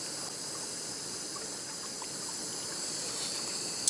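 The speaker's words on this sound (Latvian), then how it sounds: "ūdens vārās" Water boils in a pot with a steady, close, bubbling hiss that stays even throughout.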